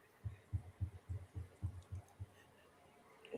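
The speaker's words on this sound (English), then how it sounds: "I muted myself and I still hear that heart beating" Heartbeat picked up through a microphone during a group chat, with eight steady, low thumping beats at an even pace, fairly loud and close, then fading out with no talk over it.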